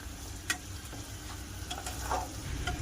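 Onions, ginger-garlic paste and turmeric frying in a pan for chicken keema biryani, a close sizzle broken by a few sharp spoon clicks and stirring scrapes, no voices.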